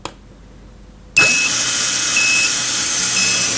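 A sliding gate drive motor kicks on abruptly after silence with a hard start, then runs loud and steady with a whining hum and a high tone that repeatedly flickers on and off.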